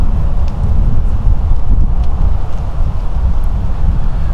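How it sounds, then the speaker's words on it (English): Strong wind buffeting an outdoor microphone fitted with a furry windshield, a constant loud low rumble with gusty fluctuations and no speech. "It's super windy here."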